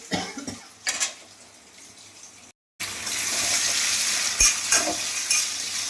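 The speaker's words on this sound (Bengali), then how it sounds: "এখানে শোল মাছ ভাজা হয়ে গেছে, আর ওখানে ডিমের কষার আলুটাকে কষাচ্ছি" Snakehead fish and potatoes fry and get stirred in a hot pan with a loud continuous sizzle and scraping, briefly cutting out before the crackling frying resumes even stronger.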